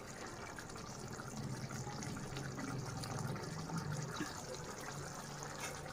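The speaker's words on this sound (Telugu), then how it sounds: "ఇందులోకి ఒక 1/2 గ్లాస్ వాటర్ అనేది యాడ్ చేస్తున్నాను" Half a glass of water trickling and pouring steadily into a pot of mutton and drumstick curry, a soft liquid splash that runs on for several seconds.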